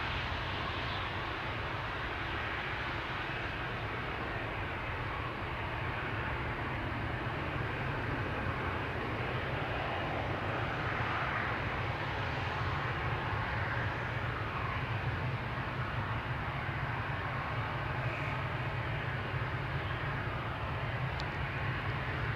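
Airliners, including KLM jets, taxiing and lining up at Amsterdam Schiphol Airport, a steady distant roar of jet engines that holds at an even level throughout with no voices.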